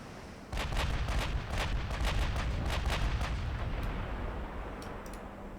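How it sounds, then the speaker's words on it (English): Rapid volleys from 16-inch 50-caliber naval guns fired in a dreadnought warship video game, a dense run of loud booming shots with sharp cracks over a continuous low rumble, close and without talk. "Get to try out the 16-inch 50 caliber gun"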